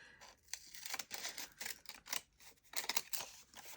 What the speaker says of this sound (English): Just going to cut the edges of this.